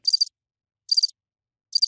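Crickets chirp in three evenly spaced bursts of rapid, high trills, each about a quarter second long, with dead silence between them.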